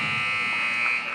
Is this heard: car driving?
no